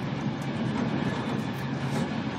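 Steady rumbling roar from inside a Eurostar Italia high-speed train from Rome to Naples, with continuous rolling wheel and air noise and no talking.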